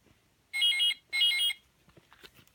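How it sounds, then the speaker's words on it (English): A toy camera phone, a clone of a Motorola handset, gives two short bursts of electronic ringtone, each a bright warbling trill about half a second long, followed by faint clicks and handling noise. "It just rings after you press a button."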